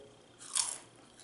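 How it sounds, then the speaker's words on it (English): Lightly salted crispy puffed rice crackers (mamra) crunch once in a single brief, close bite that swells and fades within a second against a quiet background. "See, you feel a crunchy sound."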